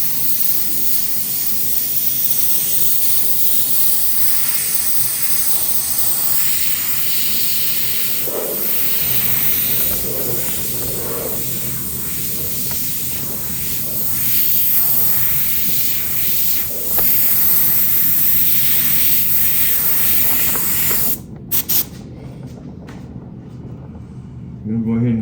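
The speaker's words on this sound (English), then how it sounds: "It's a little tough for me to airbrush around the camera." An airbrush hissing as it sprays paint on a motorcycle during an old-school paint job, a loud continuous spray close by, with a voice talking over it at times.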